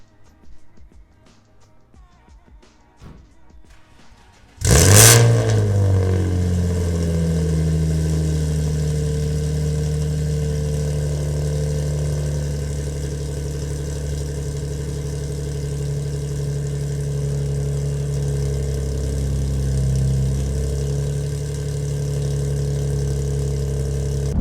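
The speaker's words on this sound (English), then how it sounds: "let y'all hear what it sounds like with the exhaust leak" A car engine cranks and fires up abruptly, then settles into a loud, steady idle with a deep rumble from an exhaust leak, after faint rustling beforehand.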